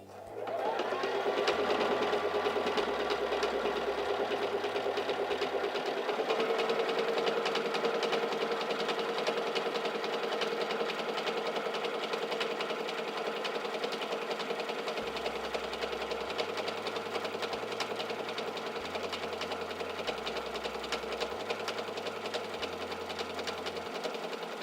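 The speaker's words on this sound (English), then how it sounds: "And now we can stitch out a honeycomb stitch." A Singer 3337 sewing machine stitches a honeycomb stitch through fabric, a steady close mechanical whir with rhythmic needle chatter running continuously, its pitch shifting slightly as the pattern changes.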